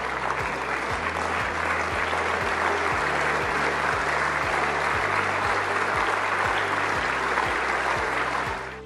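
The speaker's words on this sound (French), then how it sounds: "Il a été accueilli par des acclamations nourries." Loud, sustained applause from a large crowd in the French National Assembly, continuous dense clapping with a regular low rhythmic thumping beneath it, fading slightly at the end.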